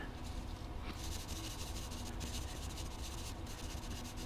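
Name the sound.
sanding a reed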